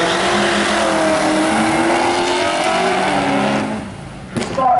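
Race cars at the Summernats car festival roar loudly and steadily, engines revving and tyres squealing, before the noise drops away near the end.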